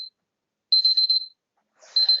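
A kitchen-style timer alarm sounds in repeated bursts of rapid high-pitched beeps, separated by short silences, clear and close.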